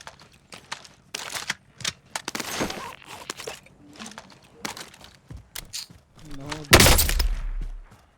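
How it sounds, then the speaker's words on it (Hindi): Gunfire in Call of Duty Warzone, scattered sharp shots and cracks across a long stretch ending in a loud blast, with players chatting between the shots. "ओहो स्नाइपर"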